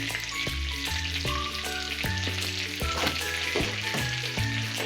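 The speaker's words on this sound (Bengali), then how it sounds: "আর দিয়ে দিচ্ছি গোটা জিরে ফোড়ন।" Whole cumin seeds sizzle steadily in hot oil in a wok, a close, continuous crackling hiss that sits under melodic background music.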